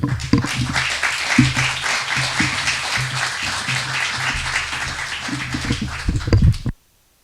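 An audience at a conference held in a club gives sustained, even applause to welcome the speaker, filling about seven seconds before it cuts off sharply.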